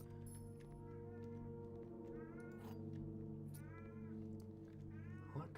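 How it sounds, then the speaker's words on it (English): A pet cat meows repeatedly indoors while bringing over its favorite toy, producing several drawn-out, wavering calls over a steady low background hum. "My cat is quacking at me as he brought me his favorite toy."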